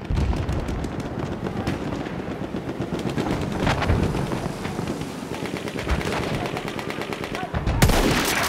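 Machine gun fire in the Battlefield 1 video game, rapid bursts of automatic gunfire, loud and close, with dense rattling volleys and a sharp blast near the end, under intermittent battle noise.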